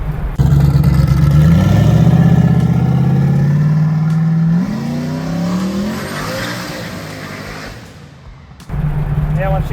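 A 1967 Ford Mustang cruising in fourth gear with the converter locked up: a loud, steady engine drone that holds, sags in pitch midway, quiets briefly, then returns strongly near the end.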